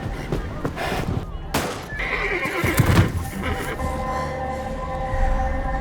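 Horse neighing and whinnying in a crime drama scene, with hooves clip-clopping and a faint siren in the background, loud and close amid a busy mix.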